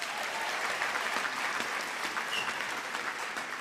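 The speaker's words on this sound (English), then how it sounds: "I think he deserves another round of applause." A university graduation audience in Windhoek applauds for a professor, dense continuous clapping at moderate loudness that holds steady across the whole stretch.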